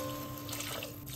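Water pours into a pot for biryani rice in a home kitchen, a brief soft trickle that runs steadily for about a second.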